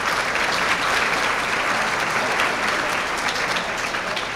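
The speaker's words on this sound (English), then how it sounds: "Can we give her a hand clap," Applause fills the room at a summa cum laude ceremony, a dense, continuous crowd clapping that holds steady and fairly loud throughout without voices on top.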